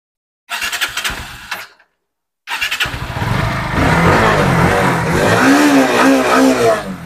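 A Bajaj Pulsar NS 160 ABS motorcycle starts up close and loud. A short burst of cranking and firing cuts out, then a second start catches and settles into a strong, rumbling idle with slight revving.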